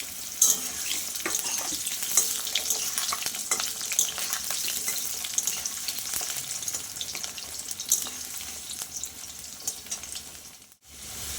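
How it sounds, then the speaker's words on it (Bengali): Potatoes frying in hot oil in a wok give a loud, steady hiss and crackle with occasional stirring scrapes, continuing close up until a sudden brief cut near the end. "আমি সবার প্রথমে আলুটা ভেজে নেব"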